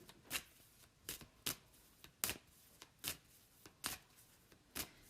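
Tarot cards riffle and snap in a series of about eight short, crisp bursts spaced roughly half a second to a second apart, close and fairly quiet with no talking.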